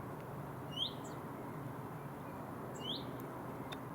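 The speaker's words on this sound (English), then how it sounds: "Chaffinch in the background, which I sometimes confuse with the nuthatch and garden warbler." A chaffinch sings twice outdoors on a walk between Arundel and Goring-by-Sea, two short bright phrases about two seconds apart, moderately distant, over a steady low background hum of wind or traffic.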